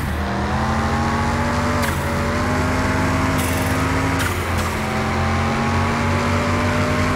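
Scion FR-S engine in Car Mechanic Simulator 21 pulls hard under acceleration, a loud steady harmonic drone climbing through the gears with brief shift breaks and tire noise, no talk over it.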